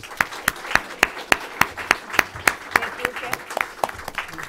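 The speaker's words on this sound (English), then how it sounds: "Would you please join me in a round of applause?" Scattered hand claps ring out in a loose, sparse rhythm, a small panel-discussion audience applauding close by with a murmur of voices underneath.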